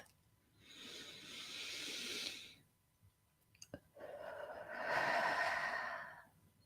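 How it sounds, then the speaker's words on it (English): Breathing during a guided meditation: a long, deep, airy inhale, a pause while the breath is held, then a fuller, breathy exhale, close and soft. "Big deep breath in, really filling up your lungs. And at the top of that breath, just holding it just for a second."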